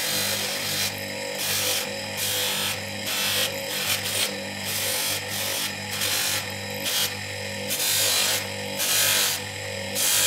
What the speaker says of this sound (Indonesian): Jadi baru kita poles cincinnya.